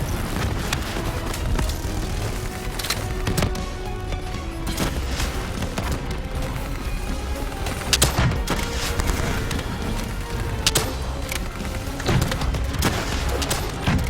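Gunfire in Call of Duty: Black Ops 3 rings out in a steady combat barrage, with repeated sharp shots and heavy booms close and loud against a dense layer of battle noise.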